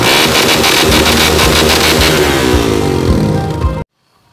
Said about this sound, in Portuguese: hoje eu vou mostrar pra vocês o meu novo escape que eu coloquei na moto